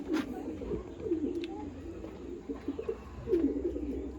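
Domestic pigeons at a pigeon sale coo in soft, low rolling calls, a few bursts spaced across a few seconds over a steady murmur of background noise.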